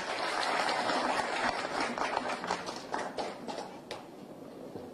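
An audience applauds the president of the Republic at a press conference in the National Palace, a steady dense wash of clapping that gradually thins out toward the end.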